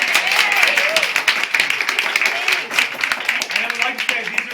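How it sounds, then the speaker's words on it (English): Applause from a small audience at a book reading, lively and close, clapping mixed with cheerful voices and chatter. "We have a round of applause."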